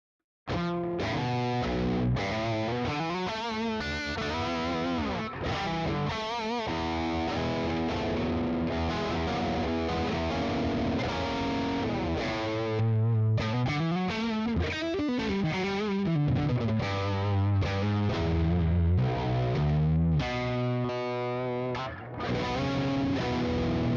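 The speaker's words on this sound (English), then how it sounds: "if you stack the blue side and the green side, sounds like this." Guitar through a Browne Protein overdrive with its blue and green sides stacked: a steady, loud, heavily driven riff and chord passage running without a break, and no voices.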